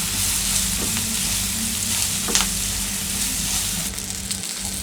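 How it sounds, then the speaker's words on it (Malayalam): Onions frying with turmeric in a pan for a beans stir fry, giving a loud, continuous close-up sizzle with occasional soft stirring scrapes, no voices. "ഉള്ളിയൊക്കെ ഒന്ന് ചെറുതായിട്ട് ബ്രൗൺ കളറായി വരുന്നവരെ"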